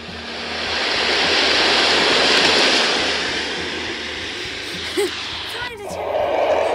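Ocean waves played as a sound effect through a loud speaker make a broad, hissing surf roar that swells and slowly recedes. A short sharp knock comes near the end, and faint voices may be present.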